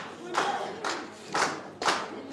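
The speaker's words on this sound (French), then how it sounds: "Les employés sont appelés un par un et applaudis par les autres." Group applause swelling in rhythmic waves, several bursts of clapping from a crowd of employees at a ceremony in Ethiopia, moderately loud and fairly close.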